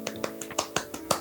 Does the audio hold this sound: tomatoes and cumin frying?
no